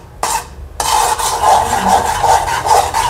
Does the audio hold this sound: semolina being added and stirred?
yes